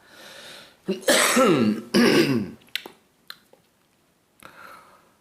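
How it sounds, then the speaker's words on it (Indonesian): Two loud, harsh coughs close to the mic, followed by a few small throat clicks and a soft exhale, with no talking. "Tinggal batuk ini belum bisa hilang ya."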